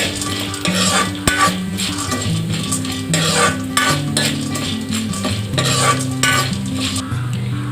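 Peanuts being fried and stirred in a pan, the utensil scraping and clinking steadily against the metal over a continuous sizzle, close and fairly loud throughout with no voices.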